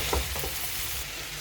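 Hinche (helencha) greens drop into a hot pan and fry with a loud, steady sizzle and crackle, with a brief stir at the start.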